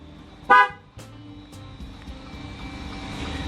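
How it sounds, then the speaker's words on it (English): A single loud Jeep Wrangler JL horn blast rings out, followed moments later by a quieter second toot, over a low background hum of an engine. "Now you're in amplified mode when you hear those 2 honks."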